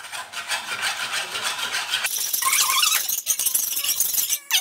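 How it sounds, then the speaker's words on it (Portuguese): A spoon scrapes and rubs steadily against a pan while stirring a thin mix of corn starch and water, a close, continuous gritty rasping that grows rougher and louder partway through, with no talking. "Aí agora eu vou mexer."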